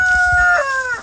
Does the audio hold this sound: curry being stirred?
no